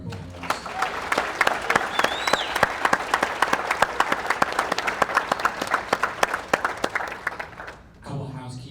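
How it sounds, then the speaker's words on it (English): A crowd applauds the panelists at a top agent panel event, many hands clapping in a dense, sustained round that stops abruptly near the end, with a voice briefly audible over it. "let's give a round of applause to our panelists"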